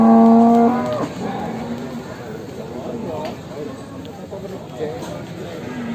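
A Simmental cow at a livestock sale lets out one loud, close moo at the start, followed by a noisy crowd and someone talking over the background murmur.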